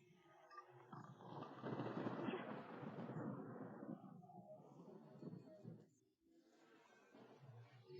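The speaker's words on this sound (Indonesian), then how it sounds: "Apakah petir ini asli atau palsu?" Thunder rumbles in a long rolling swell that builds, peaks and slowly fades, then returns faintly, a deep dramatic roar with no other sounds over it.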